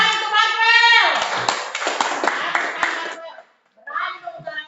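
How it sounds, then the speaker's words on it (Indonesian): A classroom of children claps in a quick, rhythmic run of sharp hand claps at a school lesson, following a teacher's voice, then brief silence and more talk. "tepuk tangan untuk Rafael."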